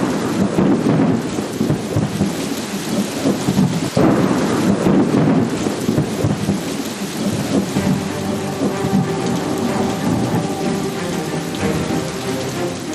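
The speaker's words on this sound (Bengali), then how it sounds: "প্রবল দুর্যোগ, ঝড় বৃষ্টি" A heavy thunderstorm with hail and pouring rain, loud rolling thunder over a steady wash of rain striking surfaces, continuous and close, with no talking.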